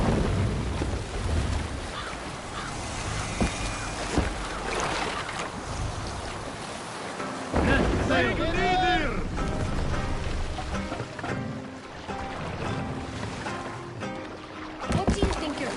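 A sailing ship under way on open water in Assassin's Creed Valhalla, with steady wind and washing waves around the hull, while shouted orders and other voices carry over the sea.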